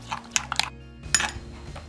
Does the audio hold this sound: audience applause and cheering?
no